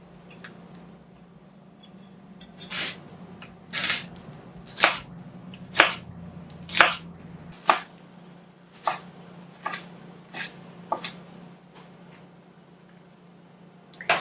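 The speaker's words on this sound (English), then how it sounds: "the way that I like to cut an onion is I like to first follow this line, the natural grain" A knife chops through an onion on a cutting board, about a dozen sharp, distinct cuts at a slow, uneven pace, each a crisp close knock over a low steady hum, the strokes gradually getting lighter toward the end.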